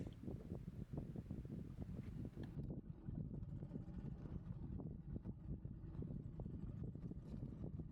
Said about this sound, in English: Now turn the engine on.